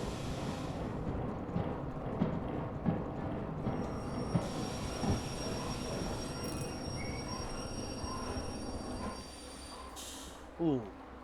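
Train wheels squealing under braking in the railway game Derail Valley, a steady rumbling, grinding screech that runs for several seconds, with a brief sharper squeal near the end and a spoken voice over it.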